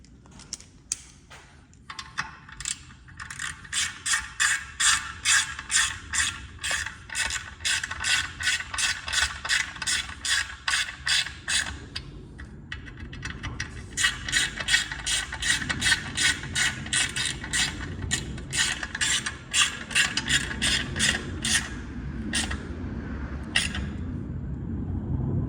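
A ratchet on an extension snugging bolts on an SRT4, quick runs of sharp clicking pawl strokes in close bursts, pausing briefly around the midpoint before more rapid clicking resumes.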